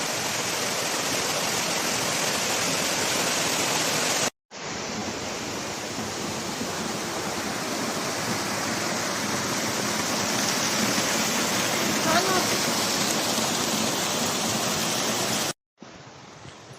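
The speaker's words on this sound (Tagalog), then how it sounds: "Grabe yung current ng tubig guys. Oh, ang lakas." Strong water current and a waterfall roar steadily at a natural area in Turkey, a dense, continuous rush that fills the scene, cutting out briefly twice.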